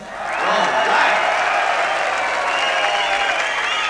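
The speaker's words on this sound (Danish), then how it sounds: "ham må I klappe meget af" A crowd at a 1978 rock concert in Stockholm claps and cheers loudly, swelling after the first half-second into a full, steady roar of applause with some voices mixed in.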